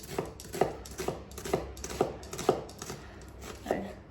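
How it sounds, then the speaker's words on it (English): A knife cuts through onion on a cutting board, giving about eight sharp, evenly spaced taps roughly half a second apart, close and fairly quiet. "That last bit of onion here, I'm just going to cut into half and then a little bit so I don't waste any onion."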